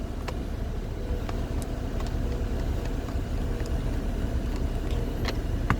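A 5th-generation Toyota RAV4 engine idles steadily and close by, a low continuous hum with faint clicks over it.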